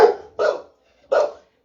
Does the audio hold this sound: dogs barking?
yes